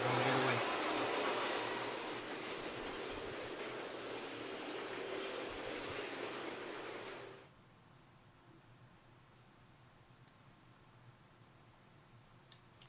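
A train rumbles past in StarCraft II: a loud, dense roar for about seven seconds that cuts off abruptly. Quiet game ambience with occasional faint clicks follows.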